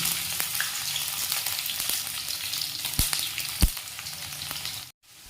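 Chopped onion and green chili frying in hot oil, a dense close sizzle with a couple of sharp utensil knocks before it cuts off abruptly near the end.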